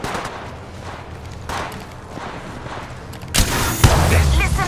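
Gunfire in the mobile battle royale shooter Apex Legends Mobile, played on an iPad: rapid bursts of shots and booms that grow louder and denser toward the end.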